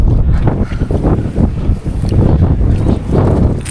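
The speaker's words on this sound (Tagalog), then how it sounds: "Malakas na rin ang hangin." Strong wind roars steadily across the microphone in heavy gusts and buffeting rumbles, with no voices.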